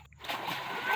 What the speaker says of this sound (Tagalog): nag-enjoy sila sa pag-swimming